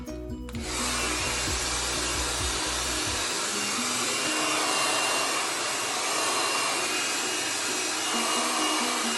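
Hair dryer blow drying fine hair, a loud, steady close-up whoosh of air that starts after a brief lead-in and runs unbroken to the end, with no talking.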